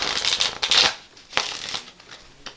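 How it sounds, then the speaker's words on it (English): Riffle shuffle of a deck of playing cards, a dense fluttering burst of card riffles followed by a second shorter riffle and light card taps, close and fairly loud with no talking. "Now I'm going to teach the riffle shuffle"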